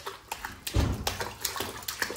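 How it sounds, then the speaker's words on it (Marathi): A child splashing hot water in a bathtub at home, with sloshing bursts and splashes, one loud slosh near the middle, close by in an indoor bathroom. "अरे बाहेर उडते पाणी."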